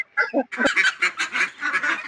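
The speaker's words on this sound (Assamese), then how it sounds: "এয়া চাওক মোৰ হাঁহখিনি ডাঙৰ হাঁহখিনি আৰু কুকুৰাখিনি" Geese and ducks on a farm honk loudly and repeatedly at close range, their harsh calls overlapping in a busy, uneven rhythm with no talk.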